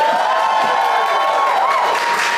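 A crowd at a live Star Wars: The Old Republic podcast Q&A in New York City applauds and cheers loudly and continuously, with high-pitched whoops rising above the dense clapping.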